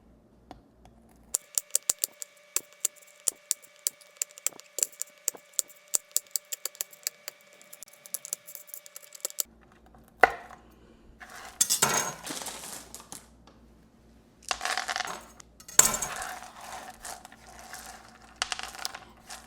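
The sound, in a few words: chopping ingredients with a knife for cookies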